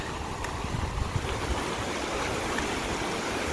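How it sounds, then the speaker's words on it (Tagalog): Water lapping and splashing steadily beside a moving boat on a river trip, a continuous near wash with a faint breeze and no talk. "yung wagaspas ng tubig, naririnig nyo"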